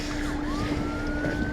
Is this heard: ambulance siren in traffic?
yes